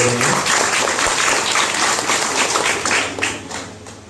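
An audience at a school wall inauguration and supplies handout claps steadily and densely for a few seconds, loud and close, then the applause begins to thin out toward the end.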